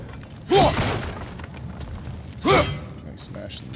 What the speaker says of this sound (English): Nice smashing the doors, not good.